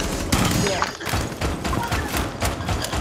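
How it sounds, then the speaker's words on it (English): Video game shootout gunfire: rapid, loud bursts of shots and thuds crackling in clusters, with players' voices talking over the action. "What are you shooting me for?"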